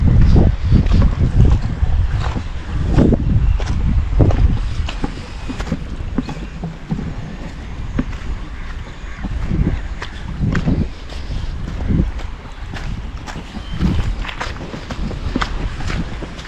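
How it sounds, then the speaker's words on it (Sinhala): A wooden canoe (oru) nearing the shore at the Lunugamvehera canoe landing at dawn, heard through heavy wind buffeting the microphone, with water sloshing and a low continuous rumble and no talk. "අපි බලමු තව ඔරුවක් එනවා මේ පැත්තට ගිහින්"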